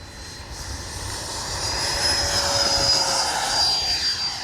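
Freewing F-22 90mm EDF RC jet taking off, a loud, steady ducted-fan whine that swells slightly as it climbs, with a high thin tone appearing midway and no voices.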